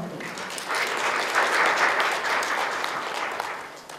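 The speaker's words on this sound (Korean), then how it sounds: "한번 앞으로 좀 모셔서 박수 한번 보내주시죠" A seminar audience applauds a guest speaker being called to the front, the clapping swelling quickly, holding dense and steady, then tapering off.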